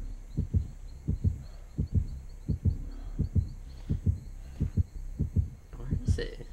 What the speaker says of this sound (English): Oh, I hear the heartbeat.